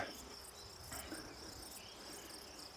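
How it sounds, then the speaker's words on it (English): Crickets and other insects chirp in a Carpathian forest in Romania, a faint, steady, high-pitched drone with soft rhythmic pulses throughout. "suddenly, I can hear the insects around me"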